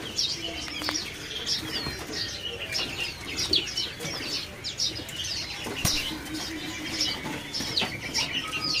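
Caged birds at a bird market kiosk, including grey seri gunting birds, keep up busy chirps and calls with repeated wing flaps and cage rustling, close by and steady throughout.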